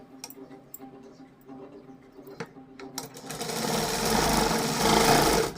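Sewing machine stitching a tuck in a blouse, a few light ticks first, then the needle running in a steady rising whir, close and loud, with no voices.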